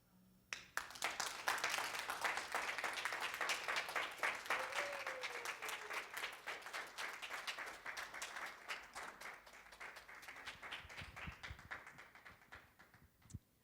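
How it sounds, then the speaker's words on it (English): After a talk on disability, a lecture-hall audience bursts into applause: crisp individual claps quickly swell into a full, even round, hold steady for several seconds, then thin out and fade. "One more round of applause, please,"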